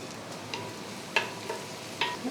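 Okra frying in oil in a pan, turning golden: a steady soft sizzle with a few brief stirring clinks on top, close and fairly quiet, with no talking.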